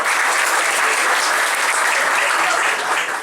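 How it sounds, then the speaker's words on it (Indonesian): An audience at a Sunday morning church service applauds continuously, a dense steady wash of many hands clapping at close range with no talking over it. "Tepuk tangan dong buat Pimpin."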